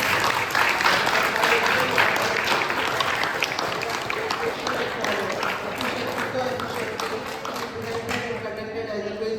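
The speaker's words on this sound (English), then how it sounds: "Let's clap for her efforts." An audience claps for the quiz master at a quiz orientation program, sustained dense applause at a steady level that eases slightly near the end, with voices mingling underneath.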